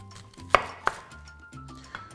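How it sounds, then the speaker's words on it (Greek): A knife finely chopping an onion on a board while preparing chicken with peppers in a wok, giving a few sharp, close chops spaced apart over a low kitchen hum. "Ψιλοκόβω το κρεμμύδι."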